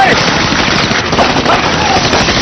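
Gunfire during a Thai drama scene, a loud dense burst of rapid shots that fills the whole clip, with shouting and voices mixed in underneath.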